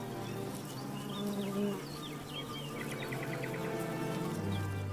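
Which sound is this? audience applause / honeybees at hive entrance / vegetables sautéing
honeybees at hive entrance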